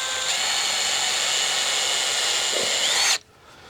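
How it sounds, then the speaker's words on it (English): A power drill bores a small pilot hole into plywood for a screw, whining loud and steady for about three seconds before cutting off abruptly into near silence. "Just drilling a little pilot hole."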